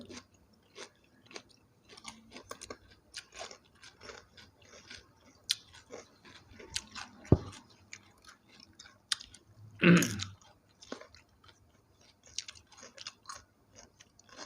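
Someone eats large crispy fried gyoza, close, quiet crunching bites and chewing clicks in an irregular rhythm, with one louder crunch.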